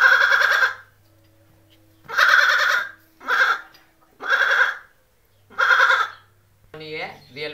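A man imitates a goat with his voice, giving five loud, quavering bleats in separate bursts with short pauses between them, followed by a final shorter call. A faint hum lies underneath.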